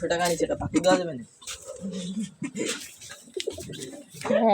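Pet pigeons or doves cooing indoors in a home, with repeated soft throaty coos mixed with close human speech.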